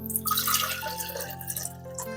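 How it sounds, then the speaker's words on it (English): Water pours into a blender jar while a homemade natural pesticide and fungicide is being mixed, a steady close splashing and trickling stream lasting about two seconds with no talk. "add some water to the blender."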